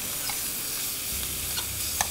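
Zucchini and tomatoes sizzle steadily in a skillet, a dense broadband hiss with a few soft stirring clicks and a low rumble entering midway, no talking.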